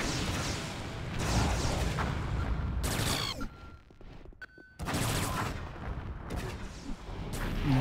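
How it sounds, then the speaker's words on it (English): Grenade gun fire in the online game Anarchy Online, heavy booming bursts of gunfire and blasts filling most of the stretch, with a brief quieter gap in the middle before loud firing resumes. "Someone's got a grenade gun"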